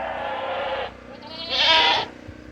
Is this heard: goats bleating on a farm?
yes